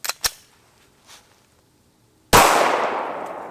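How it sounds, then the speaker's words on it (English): A 9mm round is fired from a Glock 17 at a bank vault door. A few faint taps come first, then one sharp, loud report with a long, fading tail. "Let's try a 9mm out of the Glock 17."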